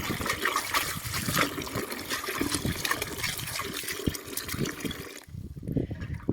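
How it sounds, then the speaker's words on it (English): Oregano stems rinsed under a running tap make a continuous splashing, gushing stream that cuts off abruptly near the end, then returns as softer trickling. "Now I'll go wash the veins, the branches, the veins. Let's wash this."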